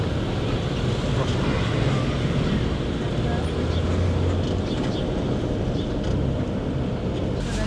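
Steady, dense roar of traffic and idling buses fills a busy bus station, loud and unbroken throughout, with indistinct voices mixed into the din.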